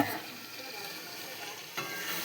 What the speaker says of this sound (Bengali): এই চিকেনটা দিয়ে দেবো।